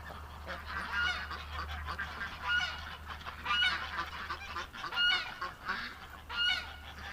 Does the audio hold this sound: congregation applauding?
no